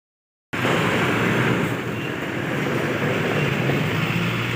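After a brief silence, a loud, continuous rumbling roar sets in and holds steady as a Mumbai local train runs along the tracks close by.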